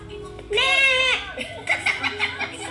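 A person imitates a goat's bleat: one long, wavering, nasal cry, followed by a few shorter bleating bursts, close and fairly loud.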